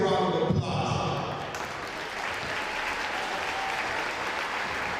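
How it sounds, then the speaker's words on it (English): A crowd at a women's basketball championship game breaks into sustained applause, dense clapping filling the hall after a brief announcer's voice at the start. "Please give a round of applause."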